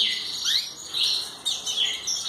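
Belgian canaries chirp in a quick series of bright, high tweets and short rising trills, close and fairly soft, coming in several bursts with no talking.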